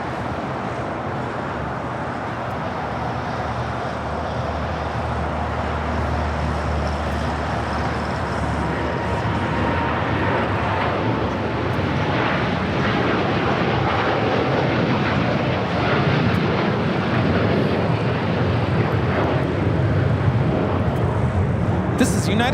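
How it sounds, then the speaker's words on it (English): A United Airlines Boeing 787-9 Dreamliner departing LAX for Hong Kong produces a steady, building jet roar with deep rumble and hiss, growing slightly louder toward the end, with background voices present. "This is United Airlines 801 taking off to Hong Kong on a 787-9 Dreamliner."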